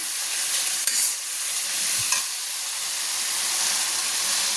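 Spice masala with garlic and ginger paste frying for chicken darbari: a steady, fairly quiet hiss and sizzle with a couple of faint stirring knocks, no voices.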